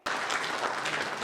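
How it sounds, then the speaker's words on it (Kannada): Audience applause at a Vijay Karnataka awards event for engineering and architecture in North Karnataka, a dense steady clapping from a crowd that starts abruptly and holds at even loudness, with no voices over it. "ನಿಮ್ಮ ಚಪ್ಪಾಳೆಯ ಮುಖೇನ"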